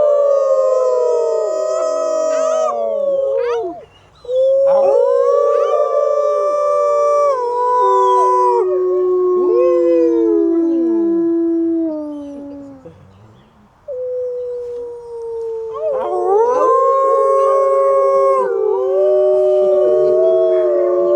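Several wolf dogs at a sanctuary howl together in a long chorus of overlapping rising and falling wails, loud and close, fading briefly before a second burst of layered howls.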